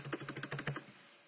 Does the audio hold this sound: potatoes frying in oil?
no